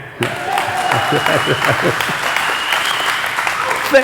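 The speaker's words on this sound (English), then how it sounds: "This is the part where you clap again." An audience at a chamber of commerce membership meeting breaks into sustained clapping that starts sharply and carries on steadily, fairly close and loud.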